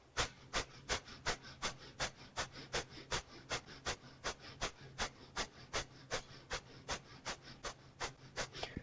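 Breath of fire: rapid, rhythmic forceful exhales through the nose during a yoga core session, about three sharp puffs per second, evenly paced and close, with no talking.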